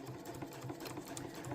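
A sewing machine runs steadily, stitching fabric for a beach bag, giving a faint, quiet rhythmic whir of needle strokes with no voices.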